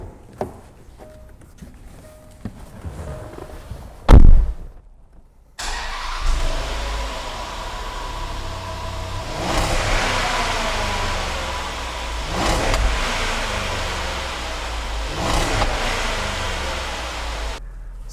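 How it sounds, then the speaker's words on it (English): A 2012 Range Rover Sport engine starts after a brief clunk, then settles into a steady idle heard from outside at the exhaust, with a few short revs swelling and easing back. "give you an exhaust sound so that you can get a good idea of what this"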